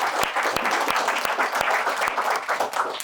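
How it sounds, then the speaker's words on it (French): An audience at a talk on professional poker applauds steadily, a close, even patter of many hands, with a few sharper individual claps standing out. "On peut peut-être l'applaudir, ça fait vraiment plaisir"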